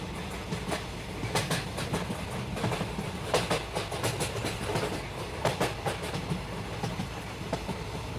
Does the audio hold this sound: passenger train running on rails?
yes